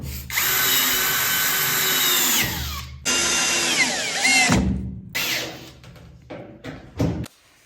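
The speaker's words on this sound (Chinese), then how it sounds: "木工正在打柜子" Loud power drill runs in several long bursts, whining steadily then stopping and restarting, as a carpenter builds kitchen cabinets during an old-home renovation, with clattering and handling noise in the gaps.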